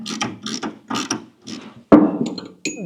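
Bolts being run in with a ratcheting tool through the brake and clutch pedal block during a Scout cab restoration: several short bursts of close mechanical clicking, then a louder clattering knock near the end.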